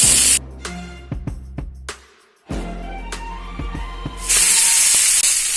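Okra dropped into hot oil in a pan for Bengali masala bhindi, a loud spraying sizzle that bursts in, briefly dies away, then returns as a steady, intense hiss, with clattering as pieces hit the pan.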